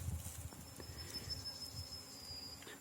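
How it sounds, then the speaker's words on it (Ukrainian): A steady low buzzing drone of many bees on flowers, gathering nectar, over a faint outdoor background, continuous throughout with no voices. "І на них дуже багато бджоли. Гул такий стоїть, як будь-то на пасіці."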